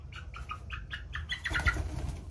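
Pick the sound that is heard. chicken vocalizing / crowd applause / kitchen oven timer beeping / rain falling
chicken vocalizing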